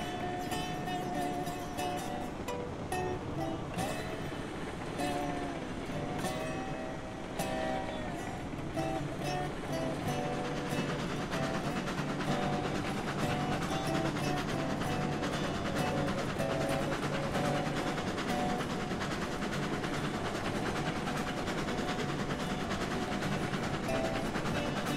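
Steam locomotive in the Railroads Online video game chugging steadily along, a dense continuous mechanical drone with rhythmic pulsing throughout, no talk.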